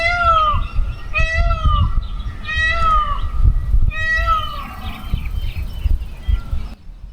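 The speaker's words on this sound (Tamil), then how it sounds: "மயில்களோட சவுண்டை கேட்டுக்கிட்டே இருக்குது மக்களே" Peacocks call near a Vaikunda Perumal temple, several loud wailing, meow-like cries repeating at roughly one-second intervals over a steady outdoor background, with no talk.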